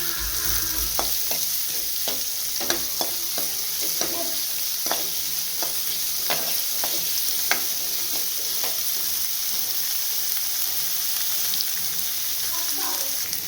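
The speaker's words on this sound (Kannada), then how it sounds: "ಇವಾಗ ಈರುಳ್ಳಿ ಹಾಕ್ತಾಯಿದ್ದೀನಿ. ಇದು ಸ್ವಲ್ಪ ಕಂದು ಬಣ್ಣ ಬರೋವರೆಗೂ ಎಣ್ಣೆಲಿ ಹೀಗೆ ಫ್ರೈ ಮಾಡಬೇಕು." Onions fry in oil for sprouted horse gram rasam, giving a continuous close sizzle broken by a regular series of sharp scraping stirs, with no voices over it.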